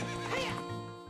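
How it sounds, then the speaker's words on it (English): A horse in the Zelda Ocarina of Time video game gives one short, fairly close whinny that rises and falls, with no talking over it. "Horse acquired."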